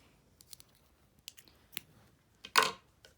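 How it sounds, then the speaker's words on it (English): Scissors snip through yarn threads on a handmade catnip mouse: a few faint, sparse clicks followed by one louder, crisp cut near the end, with no voices. "Then I'm going to cut off the threads"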